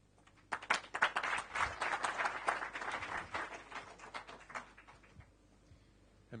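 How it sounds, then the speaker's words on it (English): A burst of audience clapping after a speech swells quickly, holds for a few seconds, then thins out and fades. "Let's give her another round of applause."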